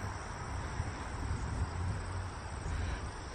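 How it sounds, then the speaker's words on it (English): Crickets chirping in a steady, dense outdoor chorus at a New Hampshire sunflower farm, with a faint breeze beneath, moderately quiet and continuous. "You can hear all the crickets."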